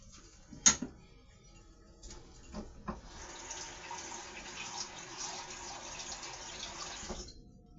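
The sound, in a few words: water pouring into a pot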